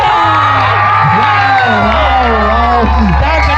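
A crowd at a youth cricket tournament final cheers and whoops loudly, with excited shouts over a steady broadband crowd roar and a constant low hum.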